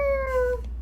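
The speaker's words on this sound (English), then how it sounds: "guess the cat ran in here" A cat in the video game Fragile Dreams gives one short, clear meow, close and loud, slightly falling in pitch before trailing off, over a low steady hum.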